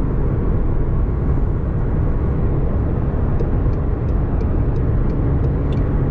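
Steady, loud engine and road roar from a 700+ horsepower McLaren 720S supercar heard from inside the cabin while driving, a constant drone with faint ticking on top.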